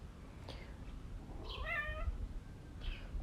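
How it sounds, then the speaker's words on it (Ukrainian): A domestic cat gives a drawn-out, wavering meow at close range over a low background rumble, with softer mews before and after it. "прийшов мій котик допомагати своїм співом"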